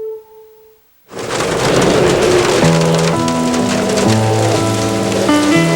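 Heavy rain pours onto a surface in a TV commercial, starting abruptly after a short moment of near silence, then a dense, loud, steady patter with faint tonal music underneath and no speech.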